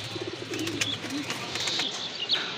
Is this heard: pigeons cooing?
yes